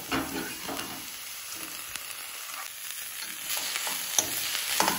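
Chopped carrot leaves sauté with carrots in a pan, a continuous near, bright sizzle broken by light scraping stirs and a few clinks, with no one speaking.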